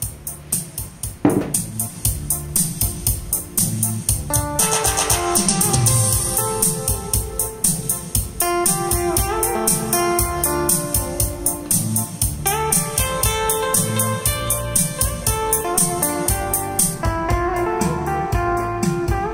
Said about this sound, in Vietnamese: Đây là âm thanh của dàn karaoke nhà các bạn khi chưa có tiếng chép.